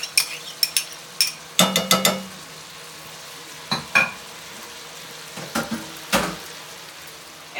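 Two tablespoons of onions frying and sizzling in a pan for a cheesy brunch dish, stirred with a utensil that clicks and scrapes in short bursts over a soft, steady sizzle.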